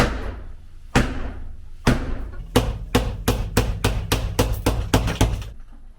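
Old tiles being hammered off a bathroom wall during a home renovation in Italy: a run of a dozen or so sharp, close, loud blows, slow at first then quickening into a steady rhythm, with no talk.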